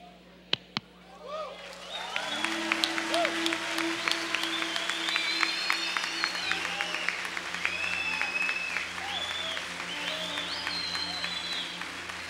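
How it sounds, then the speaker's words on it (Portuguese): A church congregation breaks into sustained applause after a couple of sharp knocks, clapping steadily and fairly loud, mixed with scattered voices and cheers. "Isso, aplauda ele, aplauda mesmo."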